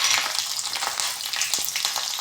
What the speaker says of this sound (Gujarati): હવે લીલા મરચાં નાખીશું.